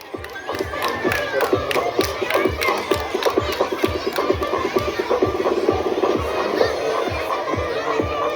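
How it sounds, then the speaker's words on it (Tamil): A crowd at a primary school sports meet awarding ceremony claps in a steady rhythmic beat while cheering and children's shouts rise around it, loud and continuous throughout. "உற்சாகமான கரகோஷம்."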